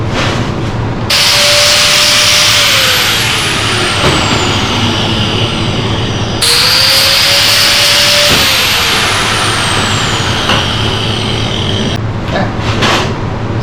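A power tool grinds steadily, rounding off a metal perch for an electric e-scooter tail light, with a loud continuous whine that briefly cuts out and then resumes, and no talking.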